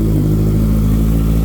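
A 2014 Honda CBR650F street motorcycle engine runs with a steady, throaty revving drone, loud and close, with no talking over it.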